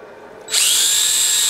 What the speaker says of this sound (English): Let's just quickly drill a shank hole here